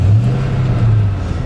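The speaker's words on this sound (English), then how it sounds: "So I'm gonna go ahead and start the car here" The engine of a 5-speed manual car turns over and settles into a steady, close, moderately loud running hum, with no voices.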